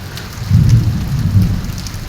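Heavy first monsoon rain pours down on an early morning in Lahore, a loud, steady, close wash of rain with a deep rumble of thunder swelling beneath it. No voices.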